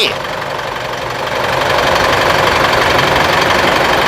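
A 3.0-litre Isuzu V-Cross pickup with manual gearbox idles steadily and smoothly nearby, a continuous low engine hum with faint knocking texture, while a person talks over it.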